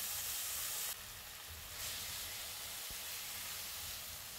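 Raw potatoes, squeezed dry, fry in hot oil over high heat, making a loud, steady sizzle and hiss that carries on without pause and without talk.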